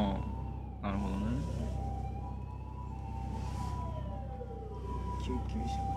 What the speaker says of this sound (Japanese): 救急車でございます。